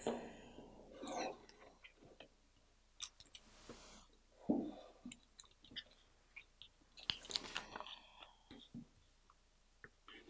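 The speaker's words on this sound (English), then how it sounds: "So now I'm just going to cut it out, the extra or the excess transfer tape" Scissors snip through excess transfer tape on adhesive craft vinyl, a few quiet, irregular cuts and clicks close by, with soft rustling between them.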